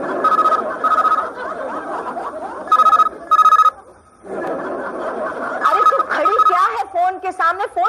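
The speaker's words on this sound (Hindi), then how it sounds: "मुझे फोन अंदर सुनाई दे रहा है" A telephone rings indoors in repeated electronic bursts, interrupted by a pause, while someone talks loudly over it and others chuckle and laugh nearby.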